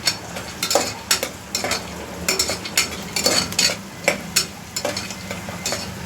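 Masala rice with green peas and peanuts being stirred in a pan, a spoon scraping and clinking against metal in a steady rhythm over a soft sizzle, close and alone.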